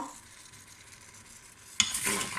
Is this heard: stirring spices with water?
yes